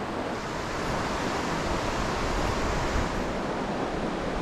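The cold Tellico River current rushes steadily in a continuous broadband wash of flowing water, close and fairly loud throughout with no talking.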